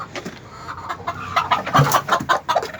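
Young Denizli chickens cluck close by, a lively run of repeated clucks and short calls growing busier toward the end, with no talk.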